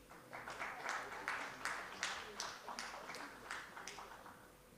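Hall audience clapping at an academic conference event, a sustained, moderately distant round of applause with irregular bursts, fairly soft overall.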